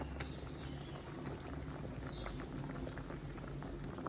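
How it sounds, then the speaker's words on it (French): A fish bouillon with potatoes, chayote, tomatoes and green saffron boils steadily in a pot, giving close, continuous bubbling and gentle popping throughout with no pauses. "nous pouvons laisser bouillir 10 minutes encore"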